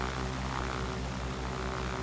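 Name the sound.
Cirrus SR-22 propeller plane flying in Infinite Flight video game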